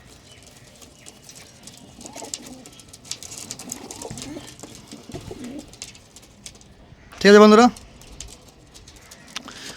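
Pigeons in a loft of top-quality Fulsira, Kalshira and Lalsera birds, with a low, muffled cooing murmur under a man's speech, then a sudden loud warbling call near the end.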